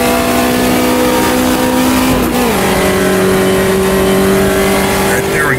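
A race car engine in Automobilista 2 climbing a hill in third gear during an enduro, a loud steady drone with a brief dip in pitch before rising again, continuous throughout.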